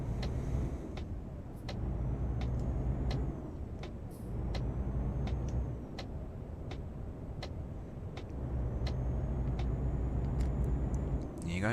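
A truck in Euro Truck Simulator 2 drives with a steady low engine rumble, while a turn signal ticks in an even rhythm throughout.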